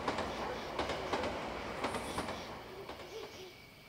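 A train rolls past in the horror video game Yomawari: Night Alone, with a loud, steady rumble and repeated clickety-clack wheel beats that slowly ease off.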